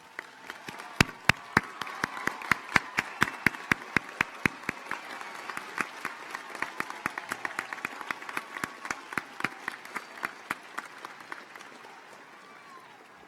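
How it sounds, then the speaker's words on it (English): A graduation ceremony audience applauds the graduates' parents with a long burst of clapping, dense with sharp individual claps, tapering off near the end under some faint background murmur. "will all the parents please stand up as we applaud you for the sacrifices you all have made"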